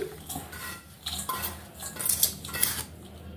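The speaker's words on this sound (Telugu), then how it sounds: "ఇది ఒక గిన్నెలో వేసుకుంటే చల్లారిపోద్ది" Roasted semolina and coconut being scraped from a pan into a bowl for rava laddoos, with several metal spoon scrapes and clinks against the cookware, fairly quiet and close with no voices.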